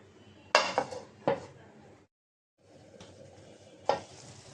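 Dhenki greens frying with shrimp in a pan produce a low sizzle broken by a few sharp clanks of a spoon and lid, a brief gap of quiet, then more sizzling and a final clank.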